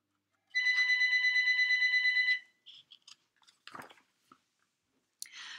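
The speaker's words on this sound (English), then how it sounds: "We'll let that phone ring." A telephone bell rings in one sustained, rapidly trilling burst of about two seconds. A few soft clicks and rustles follow in otherwise quiet surroundings.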